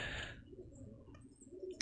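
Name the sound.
birds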